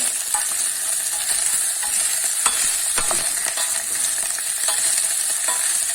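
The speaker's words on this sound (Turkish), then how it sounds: "Tam pişirmeden yağla biraz kavuruyoruz." Green beans are sautéed in oil and stirred continuously in a pan. A close, steady sizzle carries repeated scraping and clicking stir strokes, with no voices.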